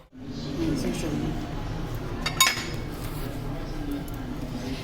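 Chicken karahi is served from the cooking pot into a dish, with close metal scrapes and a sharp clink partway through over a low, steady kitchen background.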